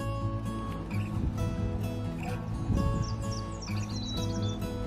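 A Nashville warbler and black-capped chickadees chirp and call in short bursts over a steady background drone at Whitefish Point, Michigan, including a rising series of bright notes near the end.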